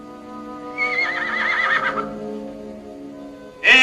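A horse neighs in a long, wavering whinny lasting over a second, followed by a quieter stretch and a second sharp whinny that starts abruptly at the end, loud and close in an open steppe setting.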